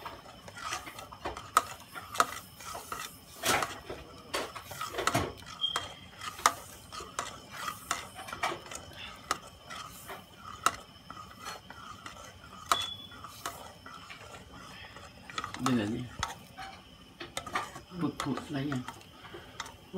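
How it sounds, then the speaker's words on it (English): Chili paste for tom yum shrimp soup being stirred in a pot, heard as close, irregular scraping and clinking of a utensil against the metal over a faint sizzle, with a voice talking in between. "Then you stir it until you smell"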